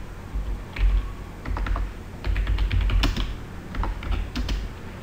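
Keys on a computer keyboard clack in quick, uneven runs as a heading is typed into a spreadsheet cell, close and fairly loud, with brief pauses between bursts and no talk.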